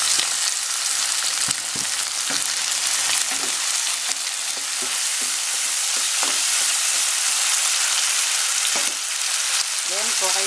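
Chicken and tomatoes fry with onion in a hot pan, a steady loud sizzle with scattered pops and occasional stirring clicks throughout, no voices.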